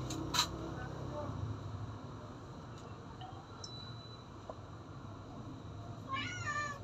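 A cat meows faintly outdoors near a worker, with a few brief cries standing out over a steady background of wind and ambient noise.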